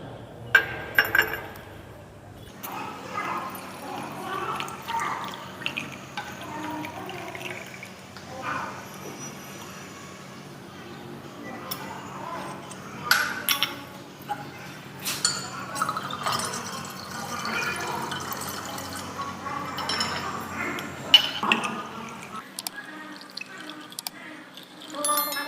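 Distilled water is poured into a glass flask in a lab while preparing a potassium permanganate solution, with glassy clinks, trickling and splashing bursts, and someone talking intermittently throughout.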